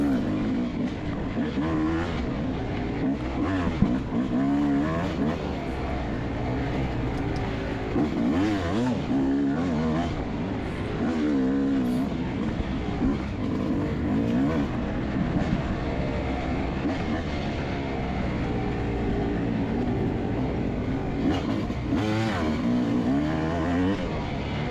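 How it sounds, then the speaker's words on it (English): A Yamaha YZ250X two-stroke dirt bike races a motocross lap over hills, its engine droning steadily and unable to rev out, as if running a gear high. Loud, constant mechanical roar with wind buffeting, no breaks. "You can kind of hear the bike. It just it just didn't want to rev out."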